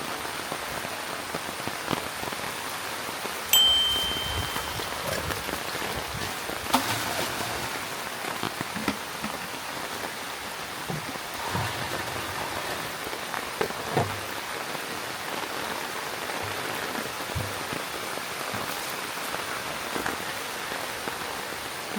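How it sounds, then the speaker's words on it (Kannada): Continuous rain drums on a Malnad farm, a broad steady patter of drops on surfaces with a few louder splashes and taps, close and unbroken, with no talking. "ಮಳೆ ಬಂತ ಬಾ ಛತ್ರಿ ಕೆಳಗೆ ಬಾ"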